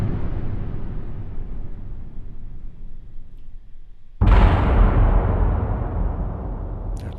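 Epic cinematic percussion from the Albion Easter Island sample library: a deep booming rumble swells and then gives way to a sudden massive hit that sustains with a loud roaring tail.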